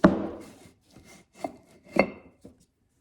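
Pieces of a silicone skull mold are pressed and fitted together, giving a few soft, close rubbing bumps and dull taps spaced unevenly over a few seconds.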